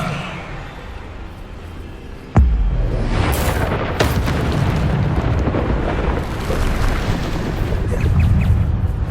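Bombarda spell blasts in the game Hogwarts Legacy: a sudden heavy boom, then a sustained roaring, crackling wash of explosive noise with further bursts layered on top, loud and close, no talk.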